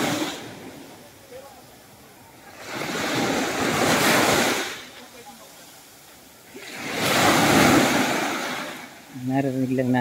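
Ocean waves break on a beach in two big surging washes with quieter lulls between, close and loud, with wind buffeting the microphone; a voice begins talking at the very end.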